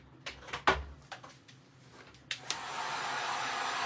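A hair dryer blows on a clothespin sunflower craft, starting as a steady broadband whoosh after a few sharp handling knocks and clicks, then running continuously and fairly loud.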